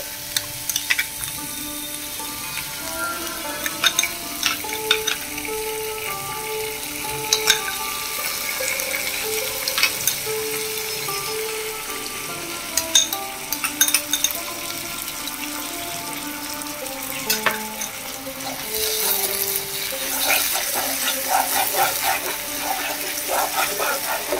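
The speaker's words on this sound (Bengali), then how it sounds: "এবারে এর মধ্যে দিয়ে দেব ফেটিয়ে রাখা টক দই" Beaten sour yogurt goes into a frying spiced masala for Doi Katla, Bengali fish curry, with a constant close sizzle, spoon clinks and stirring scrapes, and a louder hissing burst near the end.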